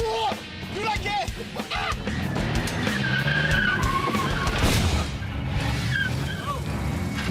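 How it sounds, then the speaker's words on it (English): A minivan skids sideways on a blown tire, with tire squeal and engine noise sweeping through the whole stretch while excited voices shout over it. "I just blew a tire!"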